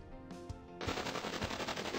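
Rapid tank gun fire from the Epic Battle Fantasy 4 video game, a dense burst of loud automatic shots that erupts after a quieter musical lead-in and keeps hammering steadily over game music.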